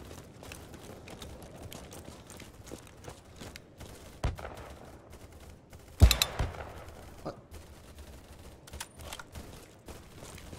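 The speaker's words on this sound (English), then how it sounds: "I swear I shot him in the head" An SV 98 sniper rifle fires in BattleBit with one sharp, loud crack near the middle, preceded by a softer report and surrounded by fainter distant gunfire and clatter.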